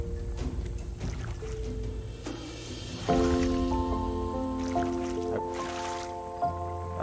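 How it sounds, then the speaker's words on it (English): Splashy paddling of a raft through water in the survival game Raft, with soft wet strokes and drips under steady tonal game music, close and fairly quiet. "let's try to paddle out of here"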